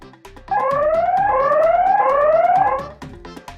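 A loud electronic security alarm linked to a CCTV camera wails with rising, sweeping tones for about two and a half seconds, then cuts off, leaving faint background noise.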